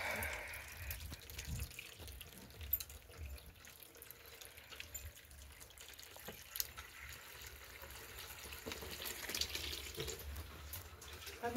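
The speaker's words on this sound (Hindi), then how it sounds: "देख सकते हैं पानी भी आ चुका है।" Water runs from a tap for a bath, a faint steady splashing flow with occasional drips, heard alone at low volume.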